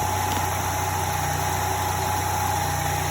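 A 1993 GM 3800 3.8L V6 idles steadily at close range, a constant even hum with a faint whine layered over it and no talking throughout.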